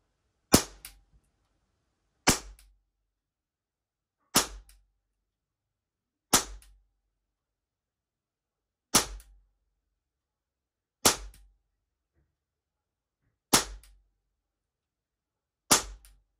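A Walther CP 88 air pistol fires eight single shots at steady intervals of about two seconds, each a sharp, close crack that dies away quickly into silence, with no voices.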